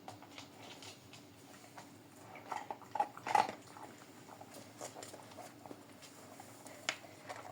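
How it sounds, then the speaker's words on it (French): A dog wearing a muzzle eats food off the floor, giving soft scattered patter and munching sounds with a few louder clinks and bumps near the middle, close by and without talk. "Comme ça, elle va devoir se démerder avec la muselière pour la manger."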